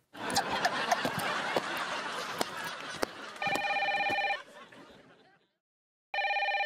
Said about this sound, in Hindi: जरा देखो किसका फोन आया है